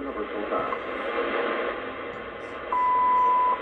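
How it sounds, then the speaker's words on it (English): WWV shortwave time-signal station test tones at 25000 kHz: a steady pure tone sounding through noisy radio static, starting partway through and holding level to the end. "So here's the test tones that they were talking about in the announcement at the beginning of the video"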